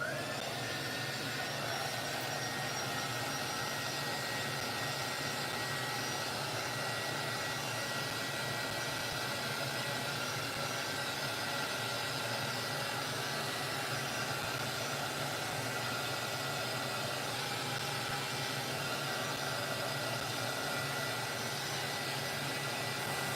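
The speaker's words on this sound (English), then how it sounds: "So I'm going to hit it with my heat gun just to triple check that it is completely dry." A heat gun blows continuously while drying Mod Podge on an acrylic blank, a steady loud whooshing roar of hot air that holds constant without a break.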